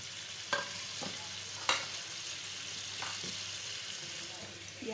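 Onions fry in a pan over garlic-ginger paste for chicken karhai, with a quiet background sizzle and a handful of distinct spoon scrapes and clinks at irregular intervals.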